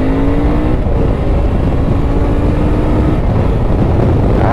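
A new motorcycle's engine revs loudly and close up, holding a steady, rough roar with rising and falling pitch sweeps over several seconds, with no talk.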